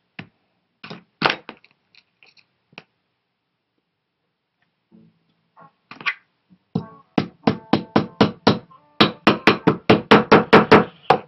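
Hammer tacking a shoe upper onto a last for women's pumps: a few scattered taps early, then a steady run of sharp, evenly spaced blows that quicken and grow louder toward the end, close and clear with no talk.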